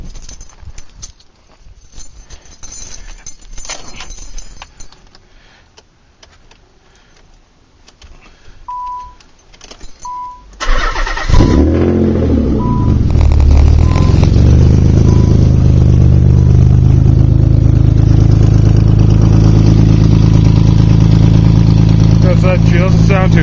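An old Chevy truck engine cranks over and catches, then settles into a loud, steady running rumble that fills the rest of the clip after a quieter stretch of faint clatter and beeps.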